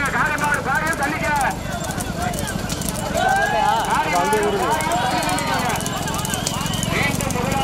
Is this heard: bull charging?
yes